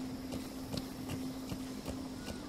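A horse's hooves clip-clop in a steady rhythm in the video game Metal Gear Solid 5: The Phantom Pain, with the mounted player character hanging off the horse's side. The hoofbeats are close, moderately loud and evenly spaced throughout.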